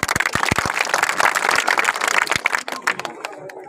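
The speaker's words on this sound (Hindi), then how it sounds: "जोरदार तालियों से इनका स्वागत करेंगे" Crowd applause welcoming a village mukhiya candidate at a Kamatpur panchayat election gathering in Banka block, a dense, loud burst of many hands clapping that thins and fades out toward the end.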